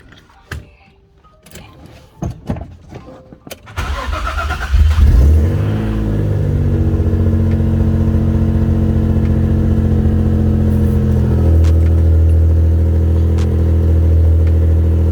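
An Infiniti G35 cranks with some clattering, catches and starts, then its engine revs briefly before settling into a loud, steady idle.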